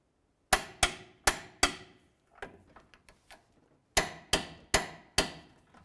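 Torque wrench clicking on the forward mounting bolts of a 2007-2012 Nissan Sentra front control arm: sharp metallic clicks in two groups of four, with a few softer ratcheting ticks between them, close up and alone.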